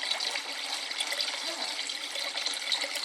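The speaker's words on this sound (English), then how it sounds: "Water's pouring right back into the sump from the tank" Water pours steadily from an aquarium tank through a PVC overflow tube into a sump, a continuous close splashing trickle at even volume throughout.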